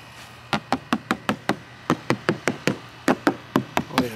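Knuckles rapping on fiberglass molds for car door panels in a custom car-audio workshop, about twenty sharp, hollow knocks in quick rhythmic groups, close and clear with no talking.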